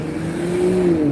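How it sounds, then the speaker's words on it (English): A Waymo self-driving car passes close by in a brief, steady rising engine and tyre hum, with no talking. "That's the self-driving car."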